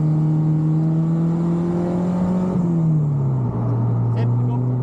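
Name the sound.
Honda Ferio K24 engine revving at full throttle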